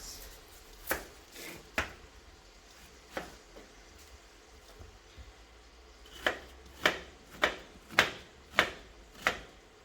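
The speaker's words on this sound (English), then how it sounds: "we're going to roughly chop 2 large onions, a red pepper and 4 cloves of garlic" Knife chopping onions, red pepper and garlic on a board, a series of sharp, near chops in irregular bursts, sparse at first then a steadier rhythm of about one stroke per half second.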